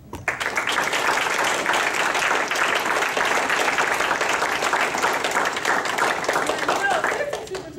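Audience at a school board of education meeting bursts into sustained applause, dense and loud for several seconds, with voices mixed in under the clapping.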